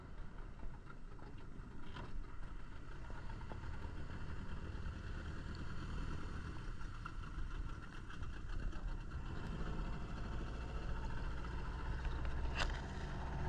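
An outboard motor driving a small boat at sea off a Tahiti surf and spearfishing spot: a continuous low engine drone with wind and water rush, steady and fairly close throughout, with no talk.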